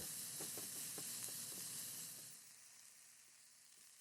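Chopped yellow onion sizzling in a pan while being stirred for a ground lamb keema curry, a close steady hiss with a few soft scraping stirs that eases to a quieter sizzle partway through.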